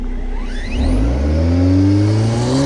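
A car revs hard and accelerates off the line at the start of a 200-meter drag race against a drone and an RC car, with a loud rising engine pitch and a whirring whine.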